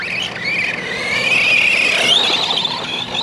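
An Arrma Granite 3S V3 RC car runs with a tight gear mesh, giving a continuous high-pitched whine that rises and shifts in pitch with motor speed, loud and close throughout, with no speech.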